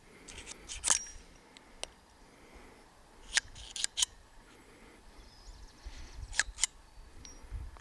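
A Smith & Wesson Model 629 revolver is unloaded in a series of faint sharp metallic clicks and clacks spread irregularly over several seconds, with a quiet background between them.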